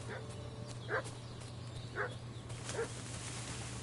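Dog barking in the video game Kingdom Come Deliverance 2: three short, distant bark-like bursts spaced about a second apart, fairly faint over a steady low hum and ambient background.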